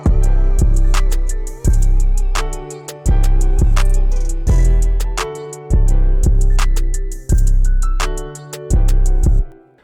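A loud instrumental beat plays with heavy, punchy kicks in a repeating pattern under a bright synth melody, no vocals.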